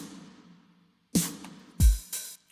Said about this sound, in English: If I mute the cymbals, it sounds like this.